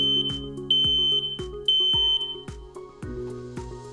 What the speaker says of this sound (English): test the alarm by depressing and holding down the Test Hush button for several seconds. This sounds the 85 decibel alarm.